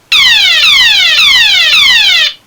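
Repeating electronic alarm-siren wail from a Transformers Shockwave toy gun: four loud, bright descending sweeps in a steady rhythm, close and alone, cutting off abruptly after about two seconds.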